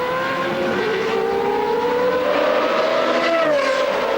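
An A1 Grand Prix single-seater race car at the Malaysia round, its engine note climbing steadily as revs build past 9,000 through the switchback, loud and continuous with a rising tonal whine and no talk over it.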